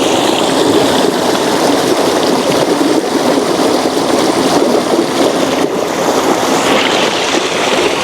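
Steady rushing stream water flowing nearby in a forest on Mt. Makiling, a constant loud wash with no pauses.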